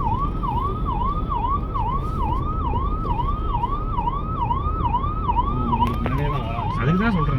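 Loud ambulance siren in Bangalore traffic, sweeping in a fast repeated wail close by over constant engine rumble, with a horn blast and other warbling tones near the end.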